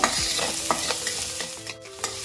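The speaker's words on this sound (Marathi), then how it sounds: "कांदा आता हा परतून घ्यायचा पहिला गुलाबी होईपर्यंत" Chopped onion sautés in a pan, a crisp sizzle broken by sharp scraping stirs and clinks of the utensil, close and moderately loud with no talk.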